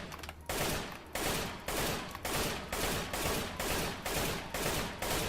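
Gunfire from a weapon in the video game CS:GO: about nine single shots fired in a steady, evenly spaced rhythm, each a loud, sharp crack with a short tail, with no talking.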